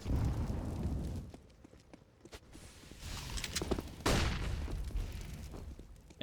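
Incendiary grenades thrown by the CT side on the Inferno map in a professional Counter-Strike match: a roaring fiery whoosh, a quieter stretch with scattered footsteps and taps, then a second loud burst of flame noise.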